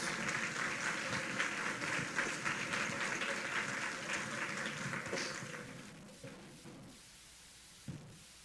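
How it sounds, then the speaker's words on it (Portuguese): A church congregation applauds together, a dense and lively clapping that holds steady for several seconds before thinning and fading away, with a few scattered claps near the end. "Vamos aplaudir o Elton, vai. Glória a Deus"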